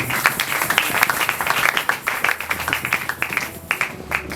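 A church congregation at a Sunday service claps together in quick, dense bursts, loud and close, a continuous round of applause praising the Lord.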